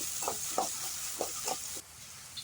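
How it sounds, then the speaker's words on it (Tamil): Large onion and dried red chillies temper in hot oil in a kadai, a soft, steady sizzle with a few light stirring scrapes that then fades quieter. "இப்போ வடச்சட்டி அடுப்பில் வச்சு மட்டும் ஆயில் ஊற்றிட்டு பெரிய வெங்காயம் வரமிளகா போட்டு நல்லா தாளிச்சிக்கலாம்"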